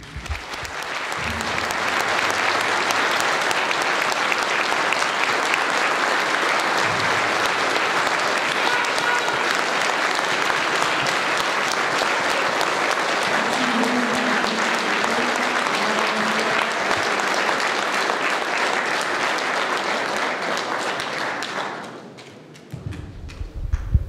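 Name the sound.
audience applause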